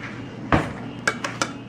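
A spoon stirring cinnamon sugar in a bowl makes one firm clink followed by three quick, light taps against the side, close and clear.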